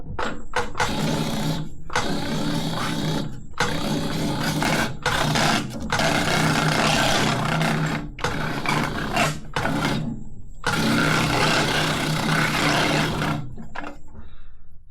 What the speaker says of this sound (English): So now we go to the next machine, the swage machine, the S1, where we're going to crimp.